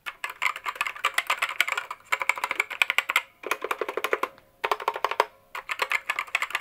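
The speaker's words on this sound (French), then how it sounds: "on va écouter tout de suite le bruit. Donc ce sont des switches Red" A budget mechanical gaming keyboard with Red switches and insulating foam clatters through several bursts of rapid typing, each a dense run of clicks and clacks separated by brief silent pauses.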